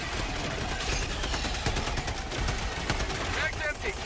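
Machine gun fire from Helldivers 2 rattles on without a break, a loud dense stream of rapid shots layered with battle noise throughout, with a voice talking faintly in the mix.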